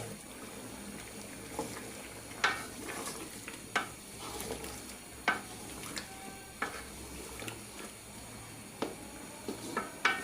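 Beef and potatoes frying in a pot, a constant sizzle broken by repeated scraping stirs and sharp clinks of the spoon against the pot, close by.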